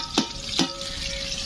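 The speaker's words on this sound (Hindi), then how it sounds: "तो अब इसके अंदर टमाटर मिर्चे डालते हैं" Tomatoes and chillies tipped into browned onions frying in ghee in a home kitchen, giving two sharp splashy bursts followed by a steady close sizzle, with no talking.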